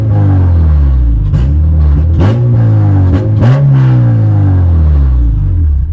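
A tuned, full-bolt-on Acura RSX Type S engine, close and loud, idles with a steady drone and jumps in several quick throttle blips, each rev rising and falling back.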